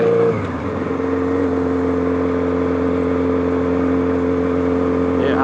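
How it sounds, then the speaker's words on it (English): Motorcycle engines run on the road close by, a steady mid-pitched drone lasting throughout, with a slight rise in revs near the end. "A lot of bikes out today."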